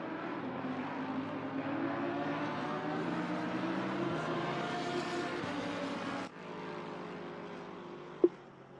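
Night race cars run on the Silverstone track in a sim racing game, their steady engine drone humming continuously at moderate distance, easing off near the end before a brief sharp click.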